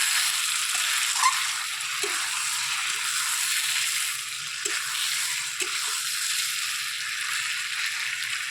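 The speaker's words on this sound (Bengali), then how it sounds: "তো চিকেনটা বসিয়ে দিলাম, মশলাটা কষিয়ে নিয়ে চলো, তারপর চিকেনটা ছেড়ে দেবো।" Chicken frying in a spice masala in a pan, a steady broad sizzle with occasional soft stirring scrapes and small pops, close and continuous with no talking.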